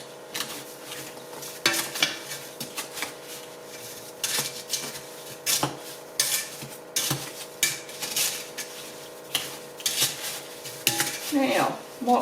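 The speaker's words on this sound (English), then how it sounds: "Use a spoon to stir it." A metal spoon scrapes and knocks against a pot as cherry jam is stirred, irregular clinks and scraping strokes up close over a faint low sizzle, with no talk.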